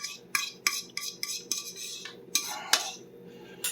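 A utensil scrapes and taps a cottage cheese egg casserole mixture into a 9x13 baking pan greased with bacon fat, a quick series of sharp metallic clinks and scrapes, close and alone.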